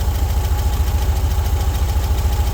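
An air-cooled VW 1600 cc engine idles fairly high after a cold start from six months of sitting, running on non-ethanol fuel, with a loud, close, steady low chugging pulse and an even mechanical rattle.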